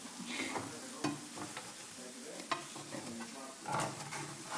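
Food fries and is stirred in a worn frying pan at home, a steady close sizzle broken by occasional scraping strokes and light clatter from a utensil, with no talking.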